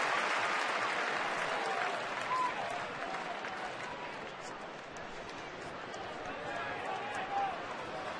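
Baseball stadium crowd at an Atlanta–Philadelphia game in 2010, cheering a fastball strike: a steady, distant roar with scattered clapping and whistles that holds for several seconds under a commentator's talk.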